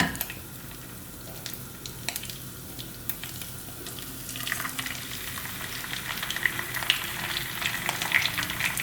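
Karimeen, Kerala pearl spot fish, sizzles in hot oil in a pan, a steady frying hiss with crackles and pops that grow busier and louder in the second half, with no talking.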